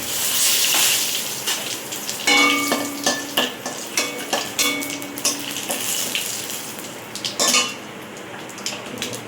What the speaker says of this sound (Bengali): ফোড়নে আমি জিরে দিলাম, শুকনো লঙ্কা দিলাম, তেজপাতা দিলাম